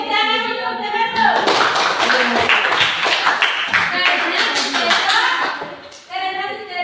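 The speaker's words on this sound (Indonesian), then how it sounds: "Tepuk tangan untuk temanmu." Children in a classroom clap for a classmate, a burst of brisk hand claps lasting several seconds between stretches of a teacher's speech.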